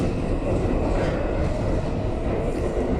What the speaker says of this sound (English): And this is a Bowling Green Bound 6 local train